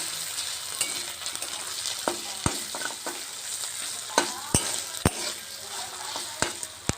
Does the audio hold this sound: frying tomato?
yes